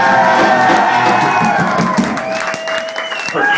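A punk rock club crowd at a concert at The Frequency in Madison, Wisconsin, cheering, whooping and clapping loudly and continuously, with shouts mixed into the applause.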